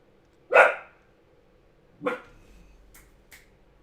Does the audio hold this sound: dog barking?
yes